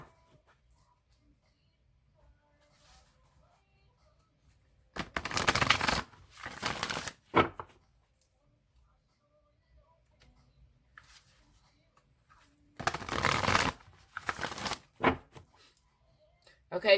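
Two short bursts of oversized tarot cards being shuffled by hand, each a soft, quick papery riffle lasting a couple of seconds, separated by long near-silent pauses.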